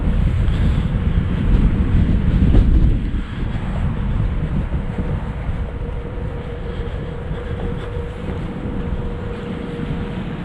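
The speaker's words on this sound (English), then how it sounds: "this is really breezy now." Blustery wind on a hiking trail roars across the microphone, strongest early and then settling into a steady, moderate rush, with no speech heard.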